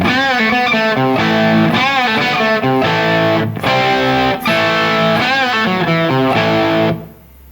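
A distorted electric guitar plays a rhythm riff through an effects unit, loud and close, in steady chugging chords with slide bends, then cuts off and rings out at the end.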